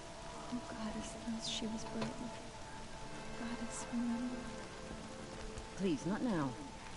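Steady rain patters through a scene in the video game Horizon Zero Dawn, soft and continuous under character dialogue and faint tonal game sounds.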